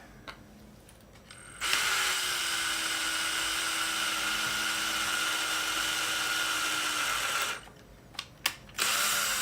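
A power drill bores out a screw hole in a GameCube console part, its high whine starting suddenly and holding steady for several seconds before cutting off, followed by a few short clicks and another burst.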